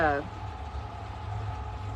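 A low, steady engine rumble idles in the background, faint and continuous, with a brief voice at the very start.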